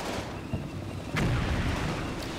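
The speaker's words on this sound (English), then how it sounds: "looks like my mortar is attacking the Stug, and it's getting pretty close" Mortar fire landing near a StuG assault gun in a war video game, heard as a dull booming impact over a constant rumbling background, with a sharper crack midway.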